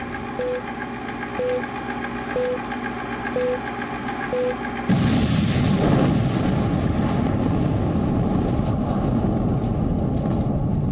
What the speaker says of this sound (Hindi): कंट्रोल्ड ब्लास्ट के जरिए ट्विन टावर को सफलतापूर्वक धराशायी कर दिया गया।